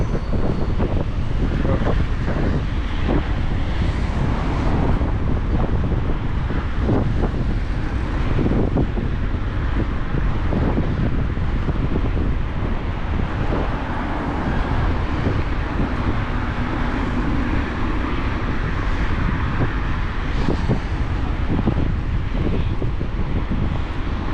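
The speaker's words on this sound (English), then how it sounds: "I don't even say that it's absolutely too much wind" Strong wind buffets an outdoor microphone near a bridge, a loud, steady rumbling roar that never lets up for the whole stretch, with no voices.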